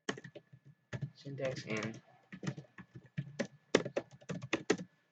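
Typing a web search on a computer keyboard, with brisk clusters of key taps in bursts under a person talking through a programming lesson.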